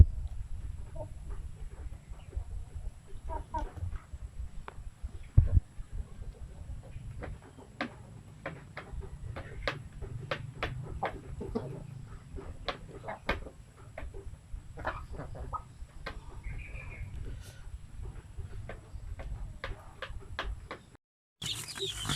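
Shamo aseel chicks fresh from an incubator peep in a steady run of short, high, bright chirps, many birds calling over one another at close range against a low background hum.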